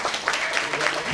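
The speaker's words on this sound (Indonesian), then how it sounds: "Boleh tepuk tangannya?" An audience applauds steadily before a badaya dance at a Sundanese dance workshop closing event, making a dense, continuous wash of clapping with no pauses.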